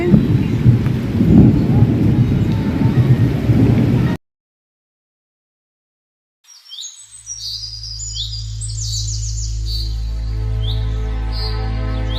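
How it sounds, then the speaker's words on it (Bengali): Low thunder rumbles under steady rain for a few seconds, then cuts to silence before birds chirp over a deep, sustained drone. "মেঘের গর্জন শোনা যাচ্ছে।"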